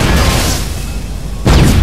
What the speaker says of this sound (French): C'est quoi toutes ces explosions?